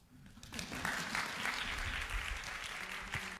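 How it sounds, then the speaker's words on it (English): A room of undergraduate non-science students claps together for an equation of the week, a steady burst of applause starting after a brief pause and holding until the end. "You're all supposed to clap."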